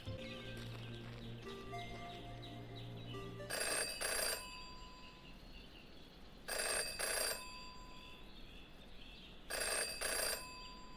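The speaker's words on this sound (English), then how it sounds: "Jenny had learned never to ignore a ringing phone." A telephone rings in the detective adventure game Jenny LeClue, three separate double bursts of bright electronic ringing spaced evenly apart, following a melodic musical phrase at the start, with no talk over it.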